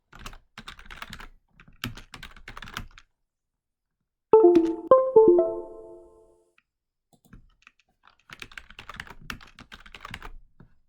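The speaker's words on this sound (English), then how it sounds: "So we're going to type in nav, body, and side." Bursts of computer keyboard typing, close and crisp, in short runs separated by pauses, with a few louder hollow clacks in the middle.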